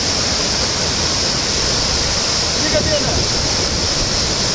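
A waterfall roars as a dense, unbroken rush of falling water, loud and close, filling the whole stretch without any pause.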